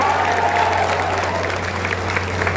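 A seated audience at a public political gathering applauds with dense, steady clapping that fills the whole moment at close range.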